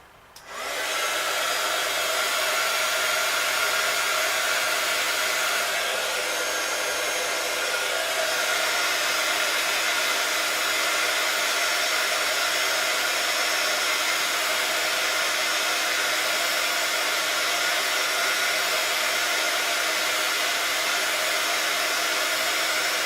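Hair dryer blowing continuously on a splatter-painted background, a loud, steady close whoosh that runs unbroken from start to finish with no talking.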